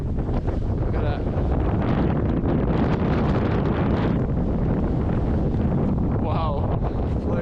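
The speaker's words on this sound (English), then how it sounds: "The wind's so strong" Strong gusting wind from Storm Arwen battering the microphone at the exposed Airlie Monument in Scotland, a constant loud roar with surging gusts throughout.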